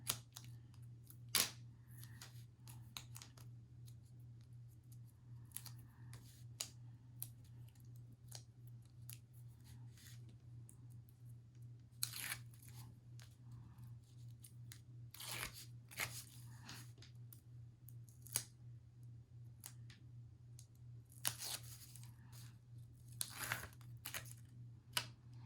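Scissors snip through sticky craft material in a run of sharp, separate cuts that come close together, laid over a steady low hum.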